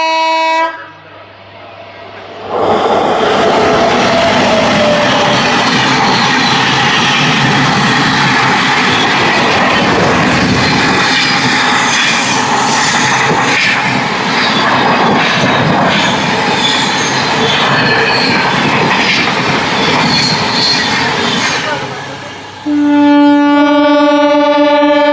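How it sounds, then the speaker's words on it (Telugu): A Kanyakumari–Howrah superfast express thunders past, wheels clattering and squealing in a loud sustained roar after a horn blast, then fading as a horn sounds again at the end. "కన్యాకుమారి నుంచి హౌరా వరకు వెళ్ళి సూపర్ ఫాస్ట్ ఎక్స్ప్రెస్."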